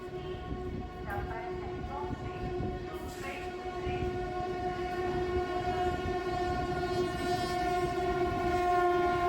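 A train hauled by a WAG-9 electric locomotive runs on the Hazarduari Express, heard loud and steady throughout, with a sustained horn tone and rumbling wagons growing slightly louder toward the end.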